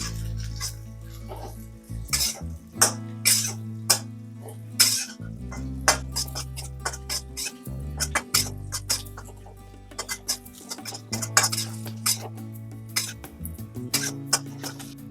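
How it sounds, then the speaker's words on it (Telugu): Crispy fried cauliflower stirred in a pan over high flame for roadside-style gobi fried rice, with repeated sharp metallic scrapes and clanks of a spatula against the pan in an irregular, lively rhythm, close and clear with no talking. "క్రిస్పీగా వేయించుకున్న కాలీఫ్లవర్ని యాడ్ చేసుకోవాలి వీటిని మంచిగా ఐ ఫ్లేమ్లో పెట్టి మంచిగా కలుపుకోవాలి"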